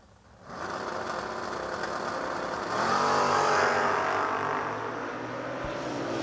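A 1969 Camaro and a Barracuda launching side by side in a drag race, a loud, sustained engine roar that swells and holds steady for several seconds before easing slightly.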